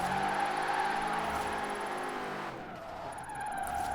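A car in a low-budget Forza Horizon 4 drift build held at full throttle, a loud steady high engine whine layered with skidding tire noise, the pitch dipping briefly before climbing again, with no talking.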